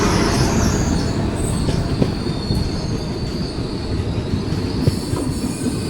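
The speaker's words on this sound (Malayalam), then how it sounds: "ന്യൂ ഡൽഹിയിലോട്ട് പോകുന്ന കേരള എക്സ്പ്രസ് ജസ്റ്റ് ഇറങ്ങി വരുന്നത്" The Thiruvananthapuram–New Delhi Kerala Express rolls past close by, a loud steady rumble of wheels on rails with metallic squeals and clatter filling the whole stretch.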